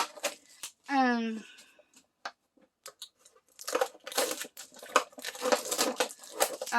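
Scissors cut open a package sealed with strong tape, giving a dense run of crinkly snipping and tearing in the second half, after a short spoken remark and a few quiet handling clicks.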